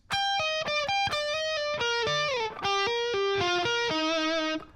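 A distorted electric guitar plays a fast solo phrase, quick picked notes and a bending slide running continuously, loud and close with effects, no voice.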